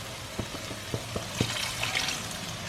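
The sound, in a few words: water poured into butter chicken gravy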